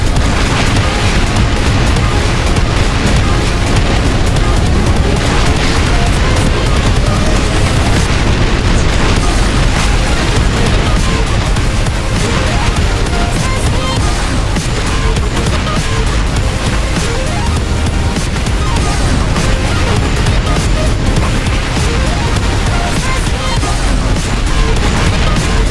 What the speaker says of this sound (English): Wow, this is a big explosion.